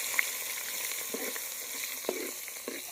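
Onion frying in oil with curry leaves and chillies, a steady close sizzle broken by a few soft stirring scrapes and taps, with no speech.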